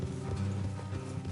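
Horse hooves clip-clopping in Red Dead Redemption 2, a quick run of close, muffled thuds over a low rumbling game background.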